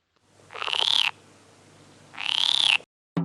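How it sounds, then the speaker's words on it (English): A frog gives two loud, close croaks, each a rasping trill lasting about half a second, separated by a short quiet gap. "I got a frog."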